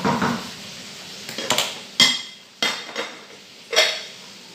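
Spaghetti sauce for Filipino-style spaghetti being stirred in a pan with a utensil. About five sharp metallic clanks knock against the pan at uneven intervals over a soft background, with no talking.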